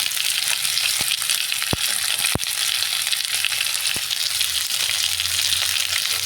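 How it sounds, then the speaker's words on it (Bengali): Taro pieces are stirred with salt in a frying pan under a constant dense sizzle, broken by a few sharp clacks of a utensil against the pan. "এবার লবণ দিয়ে আর একটু লাল মুখিটা মিশিয়ে নিচ্ছি"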